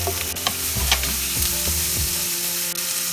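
Sliced tomato and bell pepper frying in a pan for egg Maggi noodles, a constant sizzle broken by a few clinks and scrapes of a spatula stirring, no talking.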